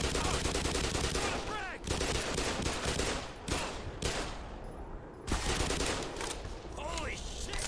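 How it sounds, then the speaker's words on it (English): Dense, sustained gunfire rattles through a firefight in Black Mesa, rapid bursts and overlapping shots filling the whole stretch at high volume, with brief gaps before renewed volleys. "We have another firefight in here, maybe."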